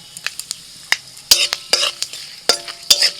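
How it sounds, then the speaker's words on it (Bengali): Bay leaves, dried red chillies and five-spice seeds hit hot oil for tempering, giving sharp crackling sizzles with a handful of loud spitting bursts and stirring scrapes, close up. "তেলের মধ্যে ফোড়নে দিচ্ছি তেজপাতা, শুকনো লঙ্কা, 5 ফোড়ন"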